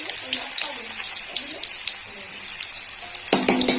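Onion slices frying in hot oil with whole garam masala, bay leaf and dried red chilli, cooking for a Bengali jackfruit and prawn curry; a steady soft sizzle runs throughout, with louder crackling and clatter near the end.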